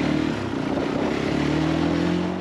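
A Fantic Caballero 500 Rally scrambler motorcycle, ridden at slower speeds, gives a steady, loud single-cylinder drone with a slowly rising pitch under wind rush.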